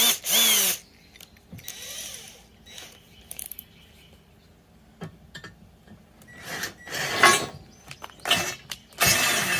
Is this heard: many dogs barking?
no